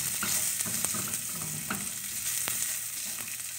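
Garlic frying in a pan for Filipino chicken afritada, a close, steady sizzle with scattered small pops and the occasional scrape of stirring.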